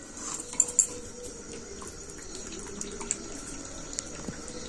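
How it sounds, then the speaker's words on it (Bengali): Water draining from boiled food in a kitchen, a soft running trickle with light clinks of a pot or utensil, strongest near the start and quiet throughout. "এই জলটা একটু ভালো করে ঝরিয়ে নিতে হবে।"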